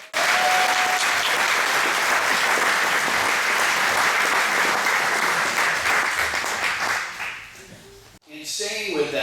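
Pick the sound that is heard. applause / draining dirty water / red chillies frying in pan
applause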